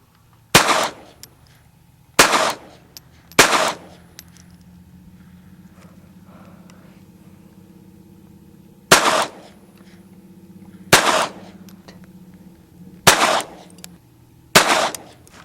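Ruger SR22 .22 semi-automatic pistol fired outdoors: seven sharp, loud single shots, spaced unevenly at intervals of one to several seconds, with quiet background between them.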